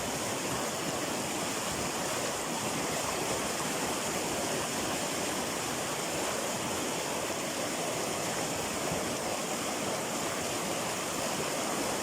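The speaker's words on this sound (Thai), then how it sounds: "น้ำก็แรงมากท่านผู้ชม" Strong stream water rushing through a natural creek during hand fishing: dense, steady broadband roar of flowing water, loud and close, unbroken throughout with no voices.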